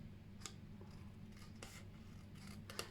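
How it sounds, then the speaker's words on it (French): Scissors snip paper for a hexagonal mosaic, giving a few faint, sharp cuts spaced apart over a steady low background hum. "Allez, on continue avec ces ciseaux-là."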